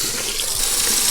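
Water pours steadily down a freshly unclogged sink drain, a constant close rushing gush with no voices over it.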